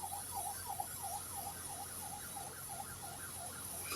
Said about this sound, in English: Nigerian siren.